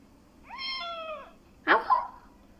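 A cat gives two meows close by: a drawn-out, pitched cry followed by a shorter, harsher one, against a quiet background.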